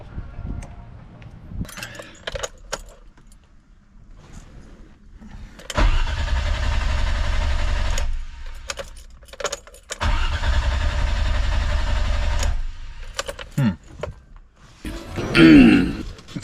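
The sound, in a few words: BMW E30 engine starting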